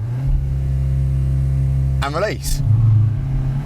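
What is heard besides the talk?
Cupra Ateca SUV launch control acceleration, engine revving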